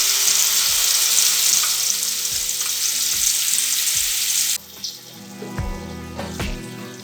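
Boiled onion paste frying in oil with cloves and cinnamon pieces gives a loud, dense sizzle that suddenly drops to a softer crackle partway through, over steady background music.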